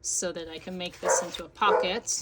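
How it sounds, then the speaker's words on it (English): A dog barks and yips several times close by, overlapping with a person speaking. "because I'm filming, he has to bark"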